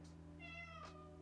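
A cat meows twice in an upset tone, with rising, drawn-out harmonic cries, close and clear over a low steady background hum.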